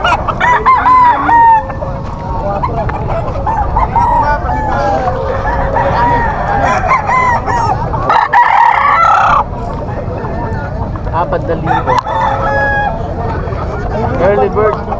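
Roosters at a Bocaue tiangge market crow repeatedly and loudly, with clucking fowl and overlapping calls above a busy crowd babble, while people talk nearby.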